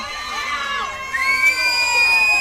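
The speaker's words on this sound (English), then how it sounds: "Just listen to that crowd, folks." A large crowd at a softball World Series championship game cheers and shouts continuously, with high children's voices and whistles mixed into the roar.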